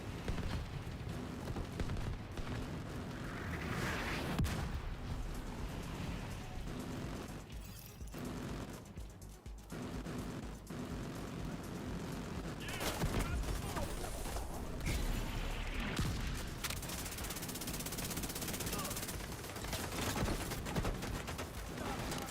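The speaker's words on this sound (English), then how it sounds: "I'm seeing mortars on the roof, and we've got a lot of hostiles ahead." Mortar blasts and auto cannon fire in The Division 2 video game, heard as a dense, continuous barrage of booms and bursts with a few brief lulls. A voice talks over the combat.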